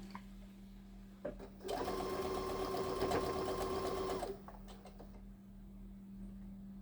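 Sewing machine stitching fabric for a homemade head covering, a steady close mechanical whir with rapid needle clatter running for a few seconds, then stopping to quiet room tone.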